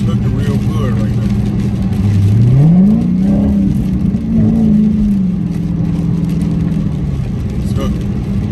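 Dodge Hellcat on 305/30 ZR20 Pirelli P Zero tires accelerating hard, a loud steady engine drone that rises in pitch midway, then holds high and settles, with road and wind roar throughout.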